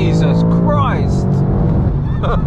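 A BMW M5 accelerates hard, heard from inside the car. The engine drone rises steadily under road noise, and a voice speaks over it.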